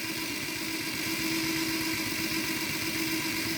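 A 00 gauge model train engine runs continuously with a steady buzzing motor whir and a fine rattling of freshly oiled gears, close and even throughout.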